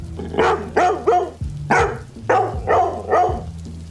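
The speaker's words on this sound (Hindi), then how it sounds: "टीवी स्क्रीन पर चल रही सीसीटीवी फुटेज को देखकर भौंक रहा था" A dog barks repeatedly at a CCTV feed playing on a hall TV screen, about six sharp close barks in a steady rhythm over a low electronic hum.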